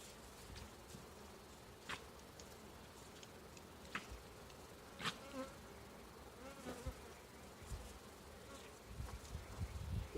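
Agitated honey bees buzz around a hive at a ranch, a busy swarm of faint whining drones with individual bees zipping close past the listener, continuous with no talk.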